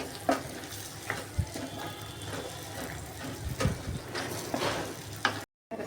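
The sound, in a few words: stirring cauliflower and dry salted fish curry in pan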